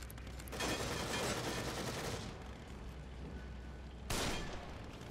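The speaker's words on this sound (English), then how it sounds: "I guess it's because I have some enemies shooting at me." Enemies shooting guns in The Evil Within, two loud bursts of rapid gunfire, one long stretch early and a second sharp burst near the end, close and heavy with a lingering rumble, no talking.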